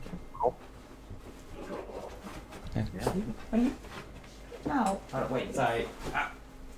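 A pet dog whimpers and lets out short yips and barks nearby, fairly faint, interleaved with a person talking.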